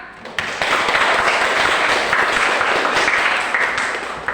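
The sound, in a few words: students applauding in a classroom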